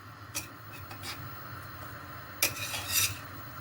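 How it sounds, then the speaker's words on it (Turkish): A spoon stirs bulgur pilaf cooked with butter in a pot, giving a few sharp scraping clinks spaced apart over a faint sizzling hiss, with a louder cluster of scrapes near the end. "Ve pilavımızı karıştırıyoruz güzel bir şekilde."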